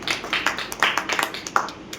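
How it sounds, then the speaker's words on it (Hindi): Audience clapping at a talk on a savings or insurance plan: a brief, uneven burst of hand claps from a small group, fairly close, with no voices over it. "तो एक बार जोरदार तालियां"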